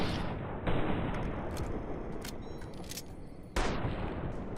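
Gunfire in Fallout: New Vegas, with a few sharp shots cracking out over rumbling ambient noise, two of them strong and several lighter snaps in between, fairly close.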